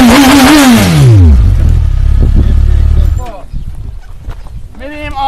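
A 2009 GS6 1000cc motorcycle revs loudly, its engine note falling sharply before settling into a heavy, close rumbling idle, with voices briefly heard at the end.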